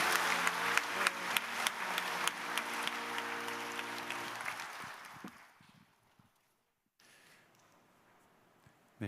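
A church congregation applauds together during a Sunday worship service to bless a newborn baby, steady clapping that fills the room for several seconds, then fades away and gives way to near silence.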